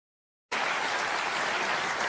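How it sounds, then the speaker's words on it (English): Television studio audience applause on a late-night talk show, starting abruptly after a moment of silence and continuing as a dense, even wash of clapping. "I'm humbled by that applause."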